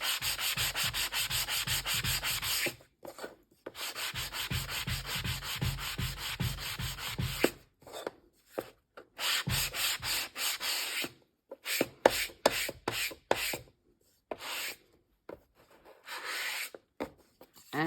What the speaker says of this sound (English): when I sand scored stuff